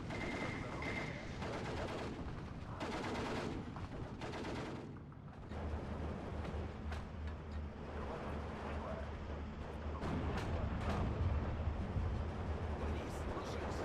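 Gunfire and mortar shelling in the World War II strategy game Steel Division 2, set in Karelia, heard as scattered shots and bursts over a low battlefield rumble that grows heavier midway through.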